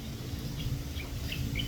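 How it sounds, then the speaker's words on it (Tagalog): A bird calls outdoors at midday in a rural yard near where goats are kept, giving a few faint, brief chirps over a steady low background hum, with no voices. "mayroon ibon na naman, oh. Yan, oh, dyan siya nakatira."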